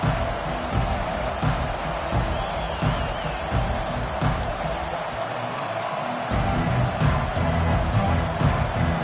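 A packed college football stadium crowd roars during a game against LSU, a dense, sustained wall of cheering and noise that swells slightly toward the end.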